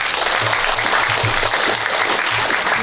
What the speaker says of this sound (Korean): 다시 한번 서로 큰 박수를 보냅시다.